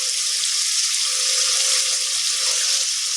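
A small amount of bowl-rinse water pours steadily into a pan of Pithali chicken, a continuous close hiss and splash with no breaks.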